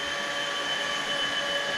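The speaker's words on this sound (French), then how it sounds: "l'aspirateur continue tout seul" An OSOTEK H200 robot vacuum cleaner runs by itself in auto mode, giving a steady, continuous motor whir and hum that stays even throughout, with no talking.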